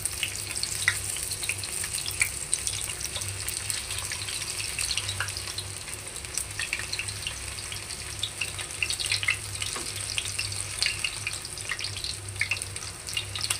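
Jackfruit shaslik pieces sizzling in a pan on a stove as they are turned one by one, a steady faint hiss with soft scattered clicks, no talking.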